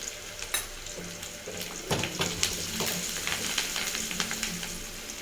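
Sliced onions frying in a pan with curry leaves and turmeric, a steady close sizzle broken by occasional pops and stirring scrapes, with no talking.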